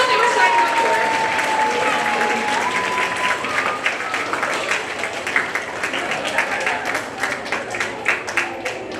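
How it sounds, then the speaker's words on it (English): An audience applauds sixth-grade theater students at a school theatre awards event, steady dense clapping filling the room with scattered voices and a brief whistle mixed in. "we're gonna applaud for these amazing 6th graders who have no clue what they were signing up for"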